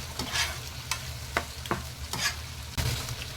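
Mutton liver sautés in a pan, giving a soft, steady sizzle broken by several sharp scrapes and clacks of a spoon stirring, with no voices.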